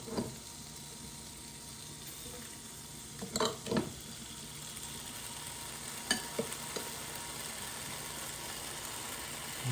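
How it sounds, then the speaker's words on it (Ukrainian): Potatoes fry in a pan on a Luxor glass-ceramic cooktop with a Schott Ceran surface. A faint, steady sizzle runs throughout, broken by a few soft clatters and scrapes. "Ось таку картоплю будемо смажити"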